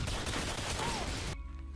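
Gunfire from a Desert Eagle pistol in the video game Call of Duty: Modern Warfare 2: a loud, harsh blast of noise that lasts just over a second, then cuts off into a quieter ringing tail.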